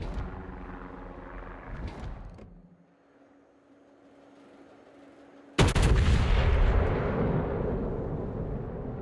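Naval artillery from a Montana battleship in World of Warships, heard as a rumbling salvo that fades into a lull, then a sudden huge boom whose long rolling roar dies away slowly.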